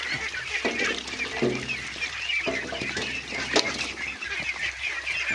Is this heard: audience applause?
no